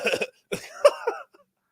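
A person coughs close up, a short burst followed by a longer rough cough, then silence.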